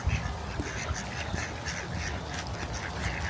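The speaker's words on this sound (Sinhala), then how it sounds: "මැන්ඩරින් ඩක්ස්ලා ගීස්ලා ඔක්කොම ඉන්නේ" Ducks quack repeatedly in an autumn park in Sweden where mandarin ducks and geese gather, several birds calling in overlapping bursts at moderate distance over soft outdoor background noise.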